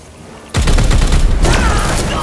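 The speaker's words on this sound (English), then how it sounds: "I'm gonna shoot this." Heavy gunfire in Warhammer 40,000: Chaos Gate – Daemonhunters erupts after a half-second hush, a loud sustained volley of rapid booming shots with a ringing tail that carries on to the end.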